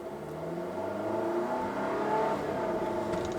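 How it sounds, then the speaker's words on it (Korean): A Volvo XC40 R-Design with a gasoline turbo engine runs in dynamic mode, a steady low engine drone with a faint rising whine, heard from inside the cabin with no voices. "다이나믹 옵션에서는 스탑&고 기능이 적용이 안 돼서 정차 중에도 엔진이 계속 아이들링 상태로 유지를 하게 됩니다."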